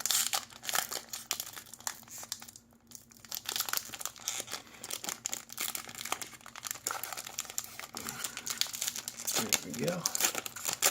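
A Magic: The Gathering Aether Revolt booster pack is torn open, the foil wrapper crinkling and crumpling steadily, with a sharper rip and rustle near the end.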